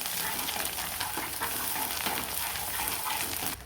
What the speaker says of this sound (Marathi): खोबरं आणि वेलचीचं कांद्याची पेस्ट दोन चमचे ते छान परतून घ्यायचं